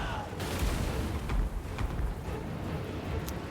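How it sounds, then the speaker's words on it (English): Warp lightning cannons from a Skaven army in the Total War: Warhammer 3 battle game fire repeatedly, giving dull booming blasts and crackling bursts over a steady rumble of battlefield noise. "our warp lightning cannons can continue to fire this entire time"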